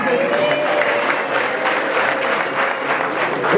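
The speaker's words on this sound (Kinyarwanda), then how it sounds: "abadafite ishyari bawe bo bakoma amashyi" Sustained applause from a wedding crowd, a dense and steady wash of clapping that stays loud for the whole stretch.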